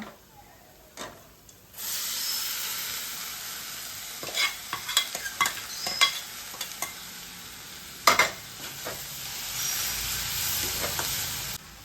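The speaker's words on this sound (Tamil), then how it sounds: "வெங்காயம் மிளகா வதக்கியாச்சுங்க. இப்போ நம்ம சுண்டல் போட்டுக்கலாங்க." Chickpea sundal stirred and stir-fried in a pan with sautéed onions and dried red chillies, a steady close sizzle with repeated scraping and clinking stir strokes throughout, no voices.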